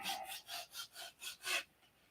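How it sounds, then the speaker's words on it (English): Wooden flaps for a P-47 model airplane rubbed with sandpaper in six steady back-and-forth strokes, close and fairly loud, then stopping. "Okay, we've sanded about that much in it"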